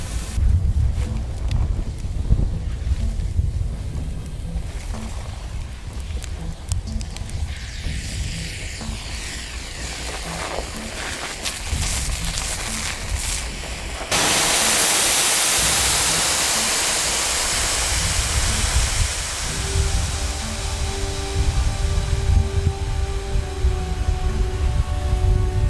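Compressed air foam blasting from a fire hose nozzle during firefighter training: a loud, continuous roaring hiss that builds and surges partway through, with steady rushing noise and no voices.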